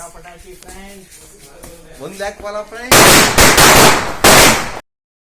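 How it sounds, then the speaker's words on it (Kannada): A string of firecrackers bursts in rapid, loud crackling volleys at a Deepawali celebration, with voices heard before the bangs begin and two dense runs of pops before an abrupt stop. "ಸರಪಟಾಕಿ ಹೊಡಿತಾ ಇದ್ದೇವೆ"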